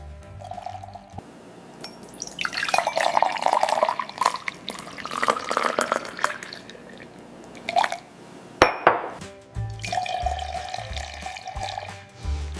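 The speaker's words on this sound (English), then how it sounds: "I will pour the juice." Juice poured into a glass gives a steady splashing, gurgling stream for several seconds, then a brief clatter as the glass or jug is set down before the pouring resumes more quietly.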